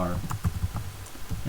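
Keystrokes on a computer keyboard while C code is entered, a quick run of irregular clicks close to the mic under a steady low hum, with short pauses between bursts.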